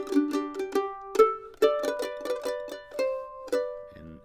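Mandolin picking a steady run of eighth notes through the opening phrase of the bluegrass gospel tune I'll Fly Away, close and clear, each plucked note ringing in an even rhythm before a brief muted scrape at the end.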